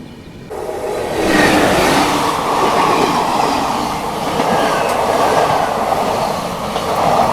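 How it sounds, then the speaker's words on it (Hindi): A summer special train passes close alongside on the adjacent track, heard from aboard the New Delhi–Prayagraj Humsafar Express: a steady, loud rush of rail noise with clattering wheels that holds for several seconds, no voices. "कोई समर स्पेशल ट्रेन अभी बगल से क्रॉस हुई है।"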